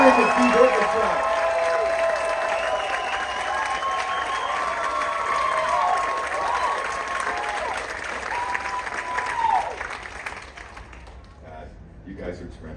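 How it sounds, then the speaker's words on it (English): Audience applause for a live orchestra at a show, a broad wash of many clapping hands with held tonal notes from the instruments ringing beneath it, steady for about ten seconds before fading out. "a humongous round of applause for an orchestra that learned this show this afternoon in 1 hour"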